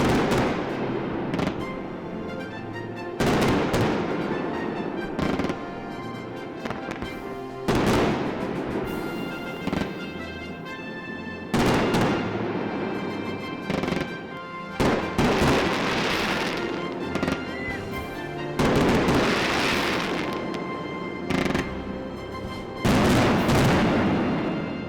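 A July 4th fireworks display at a Montana guest ranch booms and crackles in long repeated volleys, loud bursts followed by sizzling crackle, with brief lulls between barrages.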